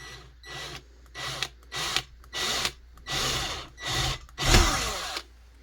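A drill bores a hole into a Husqvarna 55 chainsaw muffler held in a loose vise, running in about seven short bursts separated by brief pauses, close and fairly loud.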